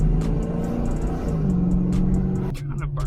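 A 5.0 coupe pulls away and accelerates, its engine rumbling and rising steadily nearby, with people talking over the engine noise.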